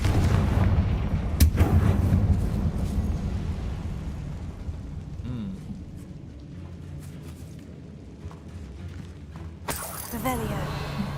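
Blasting spells explode in the Hogwarts Legacy video game: a few loud, sharp booms with crackling bursts stand out over a continuous low rumble of game sound and effects.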